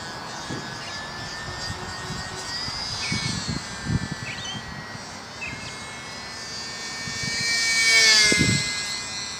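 SBACH 342 aerobatic plane flying in calm conditions, a buzzing propeller engine whose pitch wavers as it maneuvers, swelling louder near the end, with some wind rumble and knocks up close.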